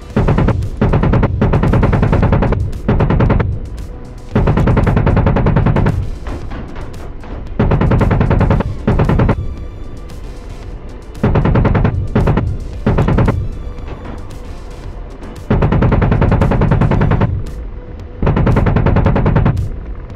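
Rapid bursts of cannon and machine-gun fire from the DCS AH-64D Apache combat flight game repeat in loud, evenly spaced volleys, each lasting a second or two and separated by short quieter gaps.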